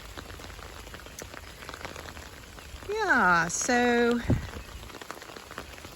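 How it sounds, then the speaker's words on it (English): Steady light rain patters and hisses across a garden on a spring morning, a soft continuous wash at low level, briefly interrupted midway by a spoken voice. "that's the garden this morning on finally a rainy spring morning"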